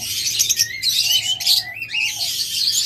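A pair of albino Fischer's lovebirds chirps and twitters continuously up close, with sharp high tweets and short rising squeaks overlapping throughout.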